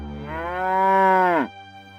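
A cow moos once, a long, loud, sustained low call that swells and then cuts off abruptly, heard alone with nothing else in the background.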